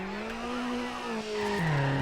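A car drifting in Need for Speed Underground, its engine holding a steady whine under a sustained tire squeal, then dropping in pitch as it shifts, loud and continuous for about two seconds.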